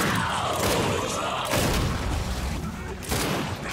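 Grenade blasts in the shooter Gears 5, with heavy booming explosions at the start, midway and near the end, loud and close over a continuous roar of battle noise.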